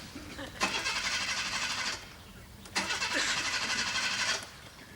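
A car's starter motor cranks in two long bursts, each about a second and a half, separated by a short pause, as the engine strains to turn over, recorded fairly close with faint background sound.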